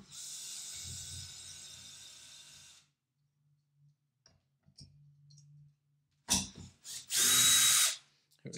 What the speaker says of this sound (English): let's see if we can remove these two screws.